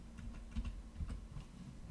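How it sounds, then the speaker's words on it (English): Arrow keys pressed on a computer keyboard, a few soft, close clicks and taps spread unevenly over a couple of seconds against a quiet background. "And when I press the up and down arrow keys"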